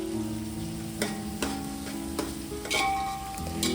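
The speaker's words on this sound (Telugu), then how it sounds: "కట్ చేసి పెట్టుకున్న ఆనియన్స్ ఉన్నాయి కదా, అవన్నీ వేసేసి మంచిగా ఫ్రై చేసుకోవాలండి." Chopped onions fry in oil in an aluminium vessel, giving a steady close sizzle broken by several sharp clanks of stirring, with no talking.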